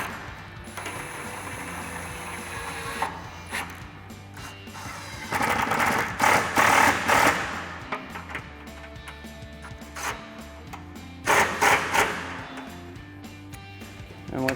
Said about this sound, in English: Now to tighten these down, we're going to grab our 13mm socket